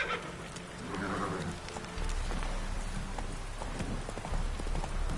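Rhythmic hoofbeats of Roach, the horse in Witcher 3, galloping at close range, a steady clip-clop that grows heavier midway, with no talking.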